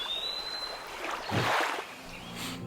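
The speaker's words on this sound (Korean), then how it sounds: "노를 저을 때 나는 물소리" A soft swish of an oar pulling through calm lake water, one gentle stroke rising and fading in a quiet outdoor setting with a faint bird whistle.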